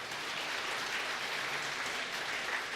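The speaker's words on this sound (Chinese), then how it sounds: "咱搁变一个掌声，甲王牧师说多谢" A church congregation at a Sunday worship service claps together in thanks to the pastor, a dense, even wash of applause filling the whole short stretch at moderate volume.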